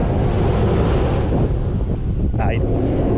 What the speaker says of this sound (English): the power of the ocean is unbelievable